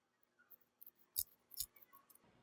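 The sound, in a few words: cutting a sheet of kim (dried seaweed) for gimbap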